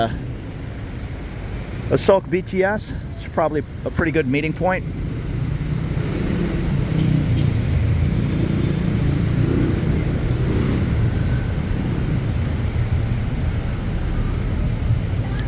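Bangkok street traffic near Asoke, with buses including international school buses, rumbles as a steady roar of engines; someone talks over it early on.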